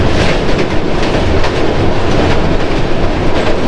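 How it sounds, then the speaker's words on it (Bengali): Indian passenger train pulling out of Cuttack station on the Howrah to Puri route, steady loud rumble and wheel clatter filling the whole stretch, no voices over it. "ট্রেন সিগন্যাল হয়ে গেছে,"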